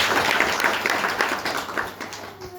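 An audience at a village Women's Day gathering claps, a moderately loud scattered applause of many hands that gradually thins out over a couple of seconds.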